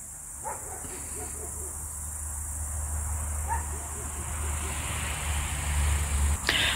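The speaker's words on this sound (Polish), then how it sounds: "Nie może oczywiście zabraknąć świerszczy, bo to jest mój ulubiony dźwięk wieczoru letniego." Crickets chirp faintly on a warm summer evening at sunset, a thin steady trill in the background under low rural ambience with a few soft distant noises.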